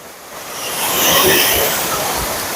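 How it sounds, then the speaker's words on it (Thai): Ko Luang waterfall in Mae Ping National Park rushes in a loud, close, continuous roar of falling water that swells midway and stays dense throughout. "นี่คือ น้ำตก ที่สวยอีกเช่นเดียวกันครับ"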